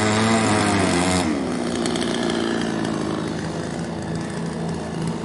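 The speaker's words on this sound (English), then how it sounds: "you won't be able to hear anything but the saw." A chainsaw cuts through a wood pallet for firewood, its engine a loud, continuous, close-up roar that holds steady for the whole stretch with no voices.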